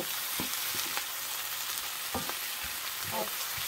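Food being stirred in a skillet of collard greens, a steady sizzling hiss throughout with several light spatula scrapes and taps spread across it, no voices.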